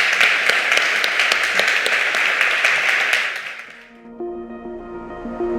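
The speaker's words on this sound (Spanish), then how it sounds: "Un aplauso por esto." Audience applause closing a panel session at an industry forum, a dense steady wash of clapping for about four seconds that fades out, followed by quiet music.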